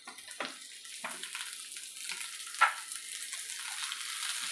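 Tomatoes fry in a pan, producing a soft steady sizzle with faint stirring scrapes and one brief sharper spike, quiet and close.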